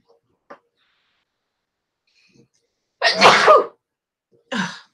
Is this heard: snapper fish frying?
no